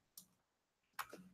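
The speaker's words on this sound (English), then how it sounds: "That's my keyboard. I'd like you to meet it. It's very loud" Two sharp, loud key clicks from a computer keyboard, a short one then a heavier double strike about a second later, alone with no talking.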